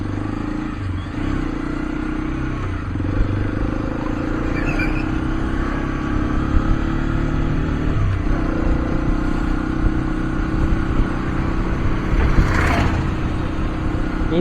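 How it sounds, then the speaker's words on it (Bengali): A new Hero Xpulse 210 motorcycle engine runs steadily at idle nearby, a continuous mid-toned rumble with light mechanical clatter and a few faint background noises. "ইঞ্জিনটা কি আরেকটু স্মুথ হবে? ইঞ্জিনটা আরেকটু সার্ভিসিং এর পর স্মুথ হবে?"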